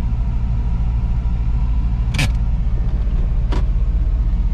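A Nissan 370Z with a manual transmission idles at an auto auction, giving a steady low engine rumble throughout, with two brief higher squeaks or clicks partway through.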